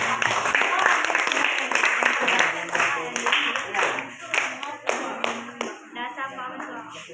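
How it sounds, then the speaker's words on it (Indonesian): A class of students at a senior high school claps for a student group, dense rapid applause that swells and then thins into scattered claps, with voices mixed in. "tepuk tangan untuk kelompok"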